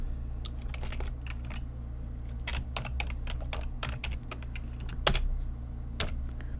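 Keys clatter in quick, uneven bursts on a computer keyboard, close and clear against a steady low hum, with no voices.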